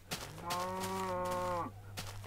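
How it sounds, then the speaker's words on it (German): A cow in the Minecraft video game gives one drawn-out, mid-pitched moo lasting over a second, clear and close, with a steady low game hum underneath. "Hier haben wir ein paar Kühe."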